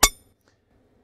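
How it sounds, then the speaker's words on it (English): A single sharp metallic clink, short and blunt, ringing briefly before fading quickly into near silence. "When you hit a short metal bar at one end and listen to the sound at the other end"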